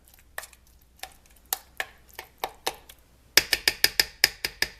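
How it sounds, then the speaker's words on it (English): Guacamole stirred and mashed in a bowl, heard as a series of sharp, close utensil knocks, sparse at first and then a quicker burst of clinking strokes near the end, no talk. "We're going to do 1 quick little stir here to get everything mashing together."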